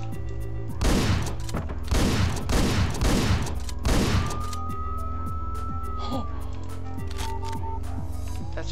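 Gunfire in the top-down action game Hotline Miami: a run of four loud, evenly spaced shots in quick succession over steady game music, followed by a rising electronic tone.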